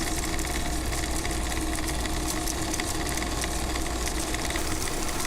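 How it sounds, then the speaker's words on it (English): A Valson crane's machinery drones from a tape recording in Disco Elysium, a continuous rattling, engine-like rumble with faint hissing, steady and loud throughout, with no talking. "That's the sound of a Valson crane."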